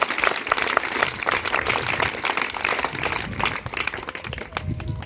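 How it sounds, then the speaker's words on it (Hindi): Loud, sustained applause from a school audience at a farewell ceremony for a retiring principal, dense steady clapping filling the whole stretch without pause. "एक बार जोरदार तालियां हमारे मत्स्यराम जी के लिए"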